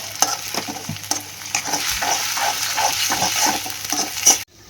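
Ginger garlic paste being stirred into a frying masala, close scraping strokes of a spoon in the pan over a continuous sizzle.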